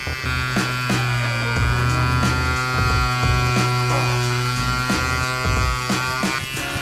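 A tattoo machine buzzes steadily with a mains-like hum as its needle runs into clear practice skin, its depth set deeper than usual, with faint ticks and scratches riding over the constant drone.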